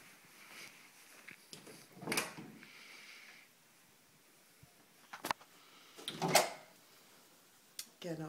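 French closet doors in a bedroom of a house are pulled open, giving a few sharp clicks and knocks with a creaky rattle of the mechanism spread over several seconds, close and fairly quiet between the sharper hits.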